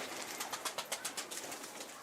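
A pigeon cooing in a string of quick, evenly spaced pulses, fairly faint against a steady noisy background.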